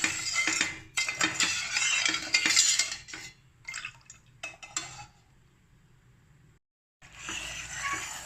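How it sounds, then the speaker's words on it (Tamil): A spoon scrapes and swirls sugar syrup around a metal pan in bursts, with short pauses between stirring strokes and light liquid sloshing. "சர்க்கரையை மிக்ஸ் பண்ணி விடுங்க"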